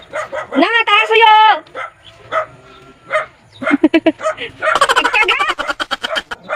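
A dog barks repeatedly, close and loud, in sharp bursts through a home setting, with excited voices talking over and between the barks.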